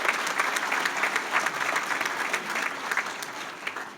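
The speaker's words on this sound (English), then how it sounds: "give him a round of applause" An audience at a college and career readiness presentation gives a round of applause, with a steady, full wash of clapping that holds at even strength and no speech over it.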